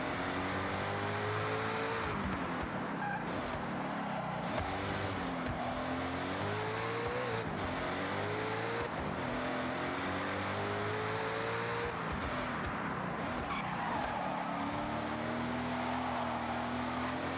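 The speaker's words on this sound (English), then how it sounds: "the car handles itself like a true GT car, braking and turning much more gracefully" Cadillac ATS-V racing car in Forza Horizon, its engine revving loud and continuous with rising and falling pitch through gear shifts and corners, with tire squeal and other cars passing.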